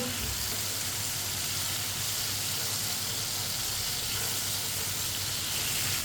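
Chopped tomatoes fry steadily in a pan for a chickpea curry, a continuous close sizzle and hiss with faint scraping from a spoon stirring through them.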